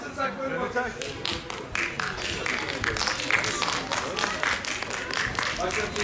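Audience applause at an İ.KA.D sports festival, clapping steadily and densely for athletes on stage, with a voice speaking over it throughout.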